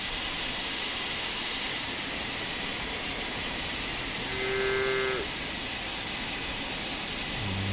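Cows mooing near a railway line in Train Sim World 5, one long low moo rising over a steady hiss of steam and ambient rumble, with another moo starting at the end.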